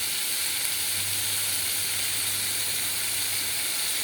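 Steady loud sizzling and hissing as water hits ground turmeric, chilli and coriander spices frying in a pan for a prawn malai curry, a continuous close bubbling hiss with no talk.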